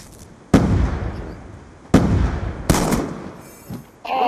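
Loud gunshots in a team shooter video game firefight, three sharp reports with ringing tails spaced about a second apart, closing with a brighter metallic burst.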